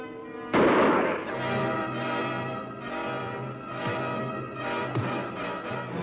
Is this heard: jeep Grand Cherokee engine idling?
no